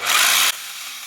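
A power tool bites into the rib of a Super Duty Dana 60 front axle housing in a harsh, loud burst of grinding that cuts off after half a second, leaving a faint hum.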